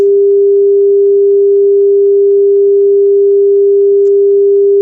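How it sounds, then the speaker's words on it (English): A single steady pure tone representing a star pulsating at one frequency, holding at one pitch without change for the whole span, loud and alone. "the sound of the star would be very simple. It would just be one tone."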